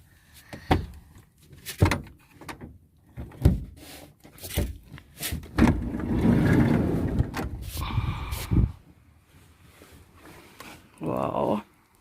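A van's sliding door is unlatched and rolled open with a long rumbling slide and a final clunk, preceded by handling clicks and thumps, while a person talks close by.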